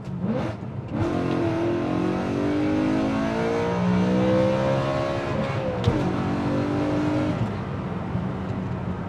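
A V8 engine in a manual BMW M3 revs hard and holds a high, roaring pitch, then drops back to a steady idle near the end.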